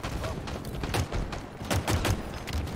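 Rapid bursts of gunfire and grenade blasts from a Halo Infinite match crackle in dense, overlapping volleys throughout, steady and fairly loud.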